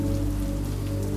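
Rain patters on a window pane, forming a soft, even, continuous wash of drops over a low steady hum, with no voices.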